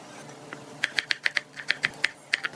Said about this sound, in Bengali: এবার একটা পেঁয়াজ, 3-4টা কাঁচামরিচ কুচি করে কেটে নিন।